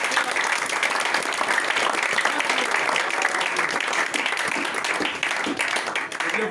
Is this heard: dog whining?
no